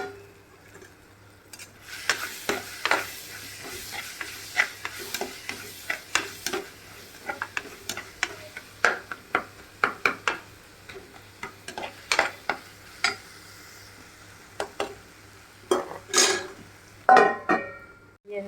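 A spoon stirs tuna fish curry in a pan, scraping and clinking against the metal in irregular strokes over a soft, steady sizzle of oil, close and fairly loud with pauses between the stirs.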